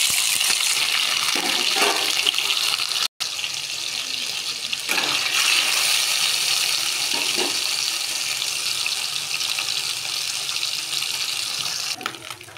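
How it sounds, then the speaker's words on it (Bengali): Loud, steady sizzling and crackling of small mourala fish, rubbed with salt and turmeric, frying in hot oil, a continuous close hiss with no one talking. "এবার মাছগুলো তেলে দিয়ে দেবো।"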